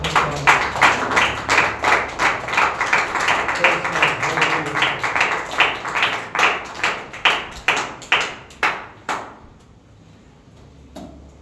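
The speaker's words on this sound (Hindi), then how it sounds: "आइए जोरदार तालियां बजाएंगे" A church congregation claps loudly in a steady, rhythmic beat, with sharp regular claps continuing for about nine seconds before stopping, followed by a couple of stray claps in near silence.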